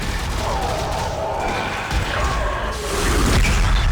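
Gunfire in Dead Space 3 during the final fight against the Prophet: dense, loud crackling shots and impacts form a continuous, noisy barrage over a rumbling game soundscape.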